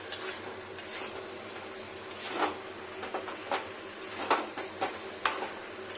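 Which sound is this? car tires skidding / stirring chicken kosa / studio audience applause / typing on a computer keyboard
stirring chicken kosa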